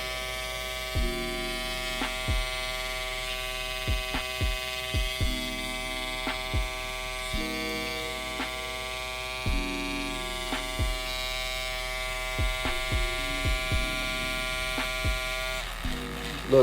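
Andis cordless Outliner barber trimmer with a broken motor, a steady electric buzzing hum that repeatedly dips and cuts out then returns every second or two, close up.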